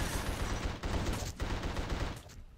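Gunfire in The Suffering video game, a quick string of rapid shots in dense bursts, fairly faint and continuous, fading slightly toward the end.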